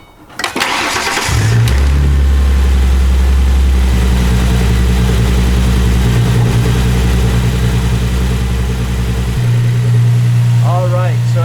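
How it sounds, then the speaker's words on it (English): A 2005-2009 Ford Mustang V6 cranks and starts, then settles into a loud, steady, close-up idle with a new belt tensioner fitted. A voice comes in briefly near the end. "let's go ahead and turn the car on"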